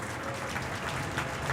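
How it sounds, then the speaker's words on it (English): An ice hockey crowd applauds an injured player skating off, producing steady, moderately distant clapping from a rink full of spectators with no voices over it. "and gets a hand from this crowd."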